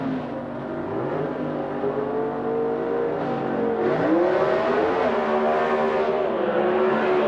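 Ford and Chevrolet near-stock drag race cars rumble at the starting line, engines idling loud and close. The pitch rises and wavers as they rev and stage, with a steady low roar throughout.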